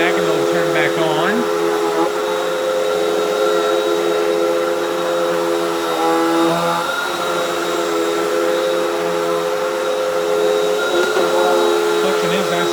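Hoover Windtunnel 3 High Performance Pet UH72630 upright vacuum cleaner running on carpet, a steady, loud motor whine with a few brief bursts of speech over it.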